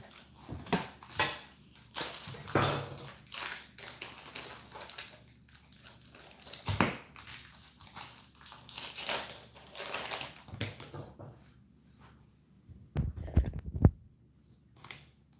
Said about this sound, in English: I've got some cheddar here and some manchego. I'm going to cut that really fast. Then I'm going to do some crackers.